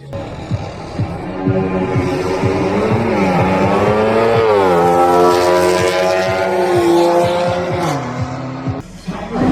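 A loud, racing car engine roars steadily, its pitch climbing and swelling through the middle before dropping off abruptly near the end.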